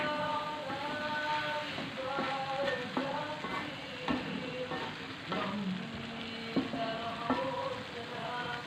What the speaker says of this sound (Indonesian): Kita masukkan kecap Bunda ya. Kita aduk lagi.